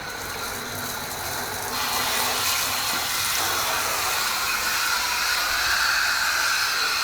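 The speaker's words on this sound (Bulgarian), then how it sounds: "Просто слагате в банята, пускате душа" A steady, loud shower hiss rinses a Carp Alligator bait boat in a bathroom, the spray shifting in tone partway through as the water moves over the hull.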